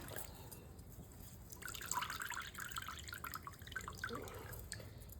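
Juice drips and trickles from a squeezed towel in a quick, irregular patter into a container close by, fairly quiet, with no talking.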